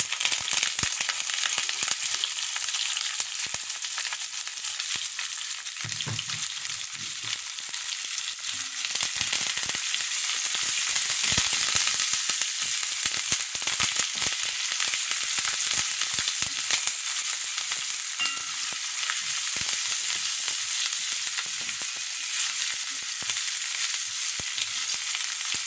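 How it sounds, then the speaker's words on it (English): Onions and aromatics fry for Trinidadian black-eye cook-up rice, with a continuous bright sizzle and crackle and occasional stirring scrapes. The sound is close and steady and goes on for a long stretch with no talking. "now that we get the sizzle, we go in with our aromatics"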